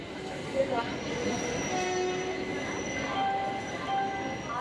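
A passing fully occupied passenger train, number 17644 from Kakinada, rumbles steadily nearby, with metallic wheel squeals and ringing tones over the continuous roll of rail cars.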